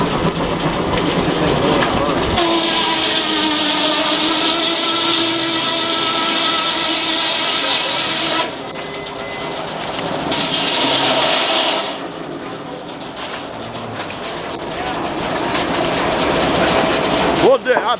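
Frick steam-powered sawmill at a steam show cutting a log, a loud sustained whining, roaring cut with rhythmic mechanical clatter that drops off briefly and resumes, with voices faintly underneath.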